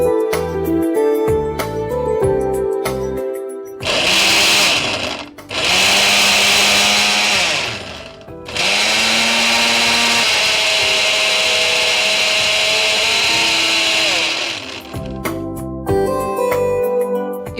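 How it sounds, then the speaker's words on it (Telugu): Kitchen mixer grinder blending tomato pieces and green chillies, running loud in bursts: a short whirring pulse, then two longer grinding runs with a steady motor whine, and no talking. "దీన్ని మనము మిక్సీ పట్టేసుకుందాం"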